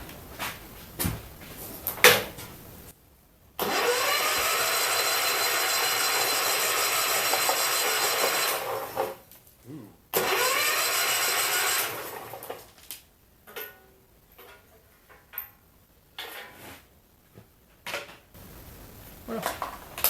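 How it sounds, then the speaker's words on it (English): A starter cranking the engine of a John Deere 110 garden tractor, a steady whirring churn in two long runs of several seconds each, separated and followed by clanks, knocks and scattered handling noises. "Now let's see what the starter does."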